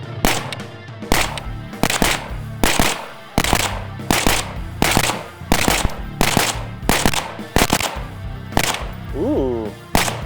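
A suppressed Mini 5.56 rifle with a 16-inch barrel fires M193 rounds in a rapid string of loud, closely spaced shots, about a dozen in ten seconds.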